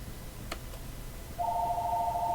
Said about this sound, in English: why the fuck is the phone ringing?